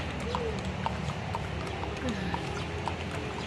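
Horse hooves clip-clopping at Stone Kingdom in Baguio City, a steady repeated beat of hoof strikes just ahead amid constant outdoor noise, with people talking.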